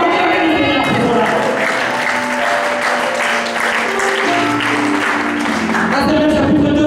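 A church congregation applauds and cheers the Lord during a French-language sermon, a loud, steady wash of clapping and crowd noise sustained for about seven seconds with voices mixed in.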